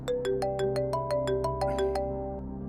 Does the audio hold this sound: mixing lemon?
no